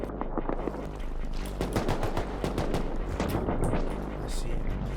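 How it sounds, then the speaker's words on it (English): AK rifle gunfire rings out in the survival game Rust, rapid bursts of sharp cracking shots heard at a distance across an offshore oil rig, steady and fairly faint over a busy game background. "we hear an AK shooting on large"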